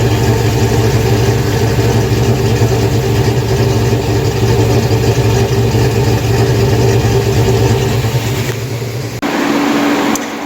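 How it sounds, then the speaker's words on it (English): A tuned car engine idles steadily and loudly up close with a constant low hum, then the tone shifts and drops near the end. "This is the best it sounded so far today. Still trying to get out the park idle."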